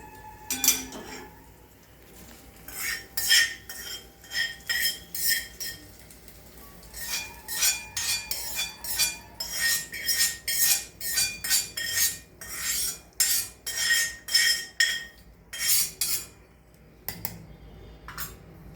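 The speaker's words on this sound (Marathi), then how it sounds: "त्याच्यात फोडणी मिक्स करून घेऊया।" A spoon stirring tempering into a crushed peanut mixture in a metal pan, bursts of rhythmic scraping and clinking against the pan with short pauses between strokes, close and clear.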